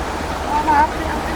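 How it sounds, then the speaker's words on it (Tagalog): Steady broadband rush of a strong, fast-flowing mountain river in Sarangani, a constant roar with no pauses. "Sa lakas ng agos ng tubig"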